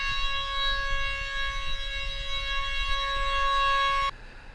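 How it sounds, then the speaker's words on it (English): A civil defense siren blares as a loud, steady multi-tone wail that holds constant for about four seconds, then cuts off abruptly, leaving faint background noise. "The sirens started blaring over the summer on Fridays"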